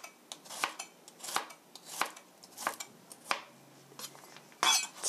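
A knife thinly slices two garlic cloves on a cutting board, giving a close series of crisp, uneven taps and clicks with short pauses between them and no talking.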